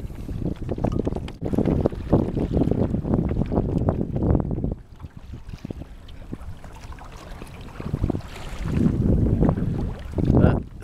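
Oars work a small sailboat across a windy bay, with steady splashing strokes and heavy wind buffeting the microphone, growing louder again toward the end.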